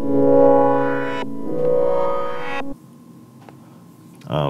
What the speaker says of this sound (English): I added a filter and I also changed the tempo, and then it sounds like this.